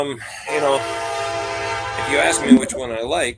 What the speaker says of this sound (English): sorry about the train, we live right on the tracks.